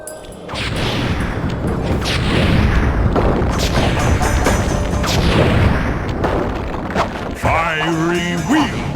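Firework blasts from the Flame Fu attack in the Sly 3 video game come as a dense run of booms, crackles and whooshes that go on without a break. Game effects and music are layered underneath.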